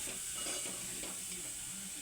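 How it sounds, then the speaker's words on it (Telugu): Sweet corn kernels stirred in a hot pan with chaat masala and garam masala, giving a soft continuous sizzle with light scraping strokes, fairly quiet and close. "నేనైతే స్పైసీ గురించి కొద్దిగా గరం మసాలా కూడా వేసి కలుపుకున్నా."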